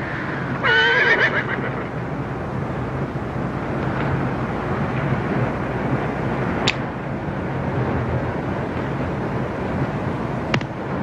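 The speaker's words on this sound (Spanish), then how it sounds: "Caballo." A horse whinnies loudly near the start, then steady outdoor rumble with wind continues, broken by a couple of faint sharp clicks.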